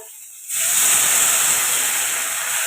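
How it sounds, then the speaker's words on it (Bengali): Water poured into a hot pan of fried potato and cauliflower sets off a sudden loud, sustained steam hiss that bursts in after a quiet half second and stays strong to the end. "এবারে এখানে দিয়ে দেবো আমি জল"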